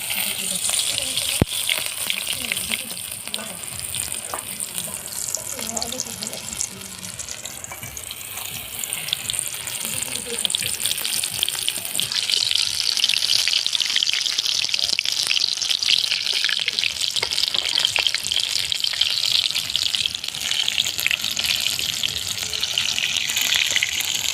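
Batter-coated shrimp frying in hot oil, a continuous loud bubbling sizzle that swells and stays strong throughout, with brief voice passing over it.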